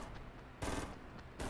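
Gunfire rattles in the Fortnite video game, with a quiet continuous background and two louder bursts of rapid automatic shots, the second cut off at the end, distant and faint with no speech.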